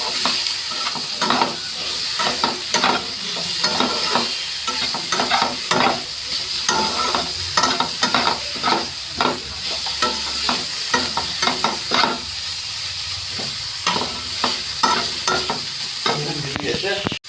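Chicken frying in a pan with spices is stirred continuously, a loud steady sizzle broken by repeated scraping strokes of the spoon throughout.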